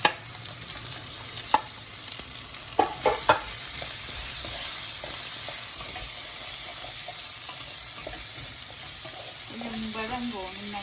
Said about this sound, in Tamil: இனி வந்து வெங்காயம் போடும்.